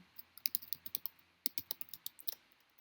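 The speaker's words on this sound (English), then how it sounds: "I'm going to triple click here and then just type his second job here" Typing on a computer keyboard, a quick run of close, crisp key clicks in uneven bursts with a short pause midway, no voices.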